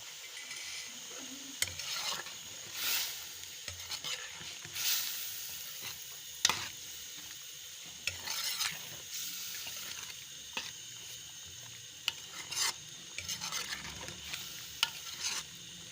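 Chicken liver fries in oil as a spoon stirs it in the pan, giving a continuous sizzle broken by repeated scraping strokes, close and moderately loud.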